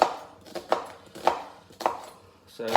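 Knife chopping onions roughly on a board, five sharp evenly spaced chops about half a second apart, close and clear with a faint hum behind.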